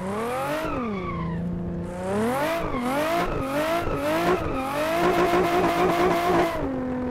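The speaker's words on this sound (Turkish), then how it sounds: "Biraz daha kontrollü drift." A Nissan 350Z drifts in the Assetto Corsa racing game, its engine revving up and down in continuous sweeping pitch while tires squeal through the slides, loud and up close without pause.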